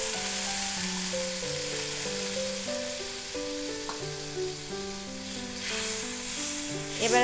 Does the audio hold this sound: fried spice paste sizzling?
yes